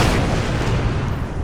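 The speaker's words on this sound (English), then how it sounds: "I want you guys to get a nice view of the ship when it fires its broadside cannons." Heavy cannon fire from a warship's broadside guns in the naval strategy game Order of Battle: Kriegsmarine, a continuous dense rumbling barrage of overlapping booms, loud and close, with no talk.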